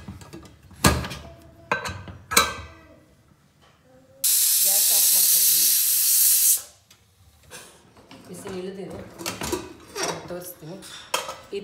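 A pressure cooker steaming star gooseberries bursts into a loud, steady whistling hiss lasting about two seconds, set between clatters of steel pots and utensils and some talking.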